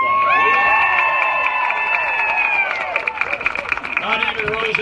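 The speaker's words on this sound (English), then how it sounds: "Give him another round of applause." Rally crowd at a patriotic political event in Baton Rouge, Louisiana, cheering and applauding loudly and continuously, with a sustained sung or held tone over the start and dense clapping and shouts building toward the end.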